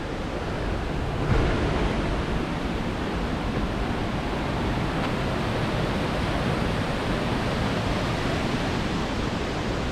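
Waterfalls in the Watkins Glen State Park gorge make a continuous broadband rush of falling water, loud and steady, with no talking.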